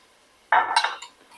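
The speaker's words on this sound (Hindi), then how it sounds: "और अच्छे तरीके से मैं चम्मच चला लूंगी।" A metal spoon stirring coriander powder in a cooking pot with onion, garlic and ginger, making a short burst of clinks and scrapes against the pot that starts abruptly and trails off, close and alone.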